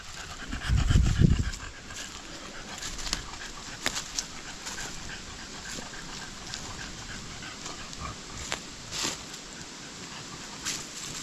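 A dog pants heavily while out walking in an open forest, a short burst of close, rough breathing early on, then faint rustling and soft steps in the woods.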